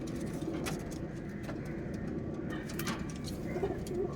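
Pigeons held up by a seller give low soft coos over a quiet background murmur, with faint distant traffic and a few light taps and rustles.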